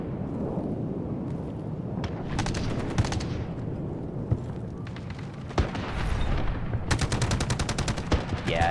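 Gunfire in the shooter game Delta Force: a dense battle of overlapping shots and rapid automatic bursts over a constant low rumble, with the heaviest fire near the end.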